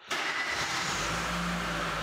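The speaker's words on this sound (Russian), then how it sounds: "Запустить двигатель и дождаться стабилизации оборотов холостого хода." A petrol car engine cranks and fires abruptly, then settles into a steady mid-pitched idle, loud and close with no one talking.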